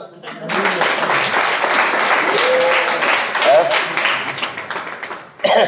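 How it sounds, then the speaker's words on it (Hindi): A Hindu katha gathering breaks into loud, sustained clapping across the hall, dense and steady for several seconds before cutting off, with a voice briefly heard near the end. "जोर से ताली दो।"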